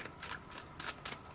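Tarot cards being shuffled off-camera, several quick papery riffle bursts in close succession, fairly close and soft, with no voice over them.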